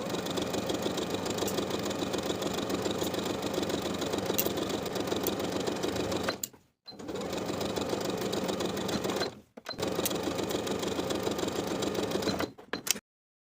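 A sewing machine edge-stitches close to the inner edge of a wrap top's bodice facing, running in long steady whirring bursts with two brief stops and a final stop near the end, close and clear with no talk.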